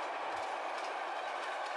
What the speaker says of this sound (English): Through the countryside chugs the powerful freight train.